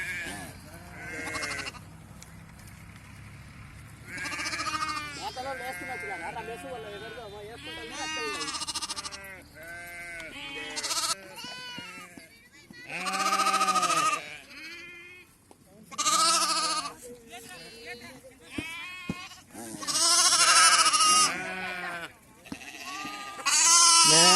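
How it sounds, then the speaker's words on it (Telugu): A flock of sheep bleats repeatedly around a farm pen where animals are being fed and vaccinated, the calls overlapping and coming in bursts near and far, with people talking between and over them. "ఎందుకంటే గొర్రెల మందులు ఉన్నాయి కదా ఇక్కడ"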